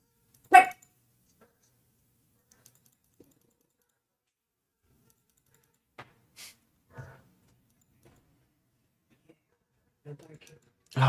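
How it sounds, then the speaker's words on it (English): A dog gives one sharp, close bark, followed by long quiet stretches broken only by faint scattered clicks and a few small noises. "He's barking."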